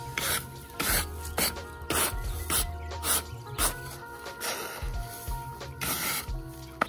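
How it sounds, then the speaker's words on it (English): A wire brush scrubs the surface of a septic tank in harsh, rhythmic rasping strokes, loud and close, with short pauses between passes. "I'm gonna go ahead and get a wire brush right here to kinda just clean up"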